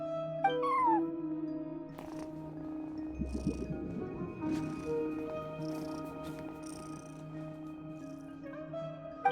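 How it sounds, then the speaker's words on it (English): A cat in Genshin Impact meows a few times, soft and drawn out, over a quiet electronic background hum with faint clicks. "No one except for a cat watching over the front desk."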